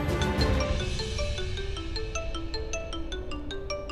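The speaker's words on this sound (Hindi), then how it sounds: "ऋषभ भैया का फोन" A mobile phone ringtone plays a repeating electronic melody with bright chiming notes, steady and alone, no voices.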